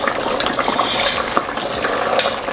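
Potatoes going into hot oil for frying and being stirred give a steady loud sizzle and bubbling, with light scraping and clinking of a utensil against the pan.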